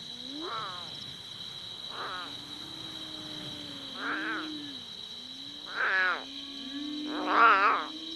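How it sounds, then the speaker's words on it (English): Abandoned lion cub crying in the wild at night: five or six high plaintive wailing cries spaced a second or two apart and growing louder, over a steady insect drone. "The plaintive cries of the abandoned lion cub echo through the night."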